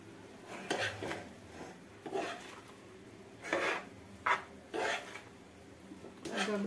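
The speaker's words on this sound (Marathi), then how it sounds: "आता त्याला मी आता व्यवस्थित परतून घेते" A spoon scrapes and stirs prawn rice in a pot in bursts of rasping, clattering strokes with short pauses between them, close by and moderately loud.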